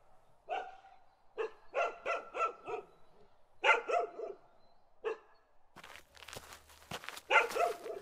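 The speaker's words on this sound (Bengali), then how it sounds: "তাকিয়ে দেখি একটা কালো কুকুর ডেকে চলেছে" A black dog barking in a horror cartoon, a series of sharp close barks in quick bursts with short pauses, followed by a noisier rustling passage.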